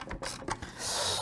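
Plastic parts of a new air purifier click and snap as its motor is fitted into the housing by hand, with short rattles and a brief rushing scrape, close and fairly quiet.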